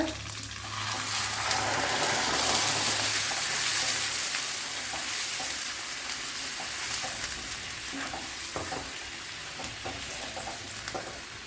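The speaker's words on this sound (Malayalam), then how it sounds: "ഇനി അരച്ച് കൂട്ട് ഇതിലേക്ക് ഒഴിച്ചു കൊടുക്കുക" Ground tomato and ragi batter hits a hot pan and sizzles loudly and continuously up close, the frying hiss slowly easing with light stirring scrapes.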